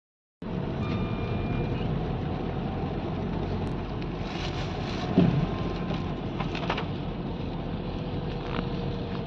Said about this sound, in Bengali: পুরো বৃষ্টি আসছে